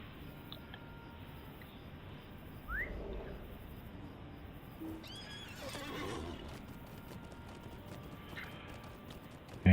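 A horse in Lord of the Rings Online clip-clops along at a steady pace, with a whinny partway through and faint birdsong in the background.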